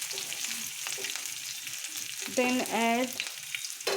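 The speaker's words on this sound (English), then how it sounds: "and garlic, some ginger, slightly fry," Garlic and ginger frying in a pan with onion, a steady broadband sizzle running throughout, with a voice speaking briefly partway through.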